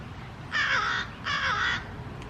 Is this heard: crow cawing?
yes